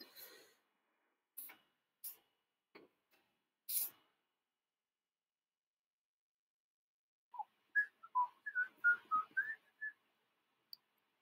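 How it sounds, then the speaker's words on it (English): Faint clicks and taps come first, followed by a short run of bright, tuneful human whistling, quiet and fairly close. "Just realized I was whistling."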